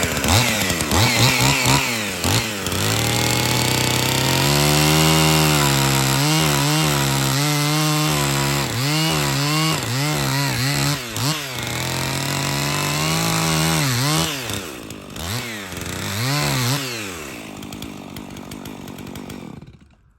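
A chainsaw cuts freehand into wood, its engine note rising and falling as the bar bites in and eases off, loud and continuous for most of the run before dropping away near the end, with no talking.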